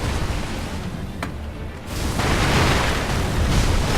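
In Sekiro: Shadows Die Twice, the firecracker prosthetic tool goes off in a loud, crackling burst of noise that swells after a brief lull and stays dense and roaring through the rest, with no talk over it.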